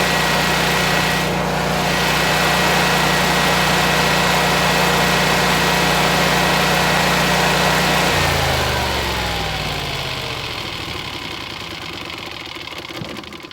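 A Generac Guardian 18kW home standby generator engine runs loud and steady at close range, a constant droning hum that then winds down, its pitch sliding lower as the engine slows toward a stop.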